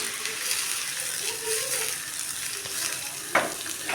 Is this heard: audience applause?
no